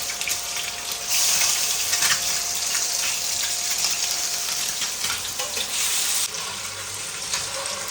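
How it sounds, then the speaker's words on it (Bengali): Boiled eggs being lightly fried in hot oil left over from frying masoor dal bora, a steady dense sizzle that holds loud and even, easing slightly toward the end, with no talk. "ডিম সিদ্ধগুলো আমি হালকা করে ভেজে নেব"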